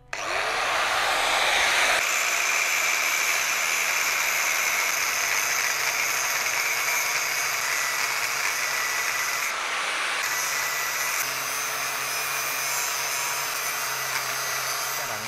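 A power tool whines steadily and loudly while cutting into a 125Z motorcycle engine block, with a brief change in pitch partway through; no talking is heard over it.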